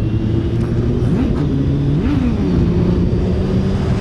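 A naked motorcycle engine revs up in two sharp bursts over a steady, loud idle, pitch climbing and falling back, close by with no talking.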